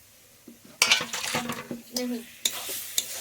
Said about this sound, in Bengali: সর্ষেটাকে পুরো কচুর শাকটাতে ভালো করে মিশাতে হবে।